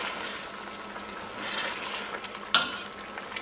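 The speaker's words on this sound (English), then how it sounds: "let that simmer for a few minutes" Ma-po tofu sauce with blanched tofu simmering in a pan, a steady soft bubbling sizzle throughout with one brief sharp clink near the end, no voices.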